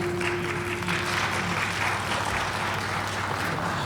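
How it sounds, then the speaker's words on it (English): Steady crowd applause fills a church, dense clapping from a sizeable public forum audience continuing evenly throughout, with a low hum underneath. "We can give them a round of applause."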